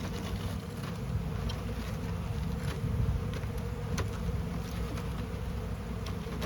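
Honey bees buzz continuously around a hive, a dense, close drone with faint rustling and no voices.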